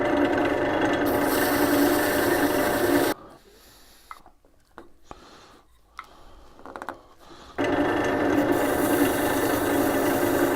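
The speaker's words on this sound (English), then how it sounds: "I'm just going to keep cutting this back with sandpaper, and until I get the fit I want" Sandpaper rasps steadily against a walnut box as the fit is cut back, a loud continuous scratchy rubbing at close range that stops for a few seconds of quiet handling noises, then resumes just as strongly.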